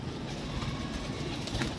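Pigeons kept in a netted enclosure coo softly amid a steady background hum, the low murmuring calls faint and continuous with no talk over them.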